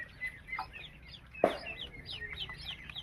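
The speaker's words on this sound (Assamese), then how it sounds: "এইবিলাক পোৱালি ডেলিভাৰী দিলোঁ আজি আমি" Many poultry chicks peep in a high, steady chorus, close and continuous, with one louder call rising from the group partway through.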